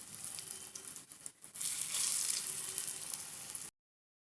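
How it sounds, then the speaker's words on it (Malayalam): Paneer cutlets shallow frying in hot oil, giving a loud, close, continuous sizzle and crackle that briefly dips and then swells before stopping abruptly. "നല്ല ചൂടായ എണ്ണയിലേക്ക് ഓരോ കട്ട്ലറ്റ് എടുത്ത് വെച്ച് ഫ്രൈ ചെയ്തെടുക്കുക."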